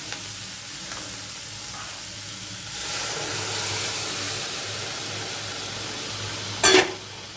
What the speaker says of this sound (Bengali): এবারে আমি গোটা মুগটা দিয়ে দেব।